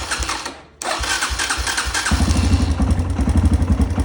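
A Kawasaki KLX140G dirt bike with a freshly cleaned carburetor is started after a short cranking burst, then settles into a close, loud, uneven idle with a rapid throbbing pulse.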